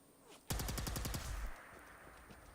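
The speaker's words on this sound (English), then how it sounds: "Yeah, that's my plasma rifle, which you can also beef up." A plasma rifle fires in Fallout 4 as a rapid burst of about eight loud, evenly spaced shots lasting one second, followed by a fading echoing tail.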